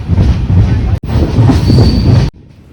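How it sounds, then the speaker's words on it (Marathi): Passenger train pulling out of Veer station on a Ratnagiri to Vasai run: loud, steady rumble and rattle of the carriages with a brief squeal, cut short by a sudden drop near the end. "आता ट्रेन सुटली आहे इथे"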